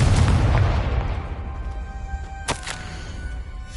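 A Confringo spell explosion in the video game Hogwarts Legacy bursts with a loud, low boom that rumbles and decays over a few seconds, followed by a couple of sharp crackling pops.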